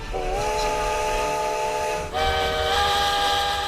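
Two long blasts of a steam locomotive whistle, loud and close, separated by a brief pause with hissing steam beneath.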